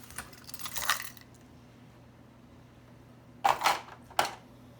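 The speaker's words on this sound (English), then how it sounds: "Okay, now for my keys." Keys are set down on a kitchen scale in two short bursts of metallic jingling and clinking, the first settling over about a second, the second a pair of sharp clinks a few seconds later, in a quiet room.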